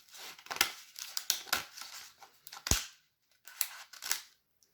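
Scissors snipping through paper for a paper craft egg, a series of close, crisp cuts in uneven bursts with short pauses between them.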